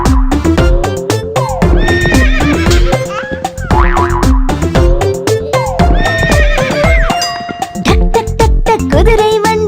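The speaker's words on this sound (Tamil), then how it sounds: "குதிரை வண்டி கடகட குதிரை வண்டி" A horse neighs and whinnies repeatedly over a bright, bouncy tune in a Tamil children's rhyme about a horse cart, the calls rising and falling loudly alongside the music.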